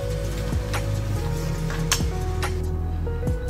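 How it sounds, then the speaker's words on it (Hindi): Semolina roasts in ghee over low heat with a steady sizzle and hum, while a utensil scrapes and taps against the pan every second or so, close and continuous. "हमें सूजी को धीमी आंच पर ही सेकते रहना है ताकि इसका कच्चापन निकल जाए"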